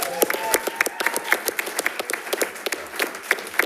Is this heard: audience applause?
yes